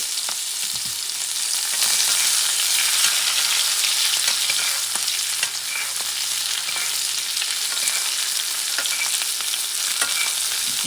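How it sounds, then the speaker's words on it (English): A steak sizzles in a pan as it is basted in unsalted butter with crushed garlic, a loud, continuous crackling hiss with small pops and spatters throughout. "drop a tablespoon of unsalted butter, couple crushed garlic, and let this baby base for flavor"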